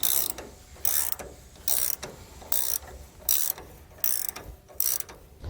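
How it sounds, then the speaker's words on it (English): Socket wrench ratcheting in repeated bursts while tightening the steering stabilizer and frame-rail bracket bolts with 15 mm and 13 mm sockets on a 2014 Thor motorhome; about seven rapid clicking runs, close and fairly loud, with no talking. "I'm going to be using a 15mm socket on our stabilizer and a 13mm socket on the bracket that we put on the frame rail"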